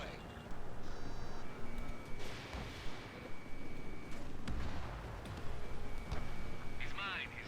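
A jet fires a missile in the Ace Combat 7 video game, a rushing whoosh and blast over roaring engine noise and radio chatter, with several sharp bursts and a beeping lock tone.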